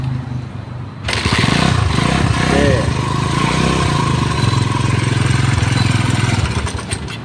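A motorcycle engine starts and is revved in neutral while the rear wheel spins fast, producing a loud, close, steady engine drone that swells and holds, with some voices underneath.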